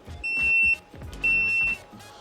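Two long electronic beeps from the boil timer on a Grainfather G40 all-grain brewing system, each about half a second, close and loud against faint background noise.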